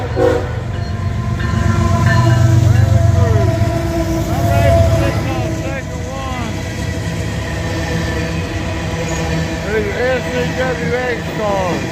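A GP40 locomotive hauling a freight train, including SCWX cars, rolls past nearby and slows, with loud rumbling, wheel noise and squealing that ease off after the first few seconds. No one speaks.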